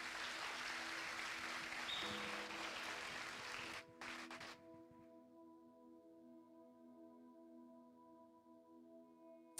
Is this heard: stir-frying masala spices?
no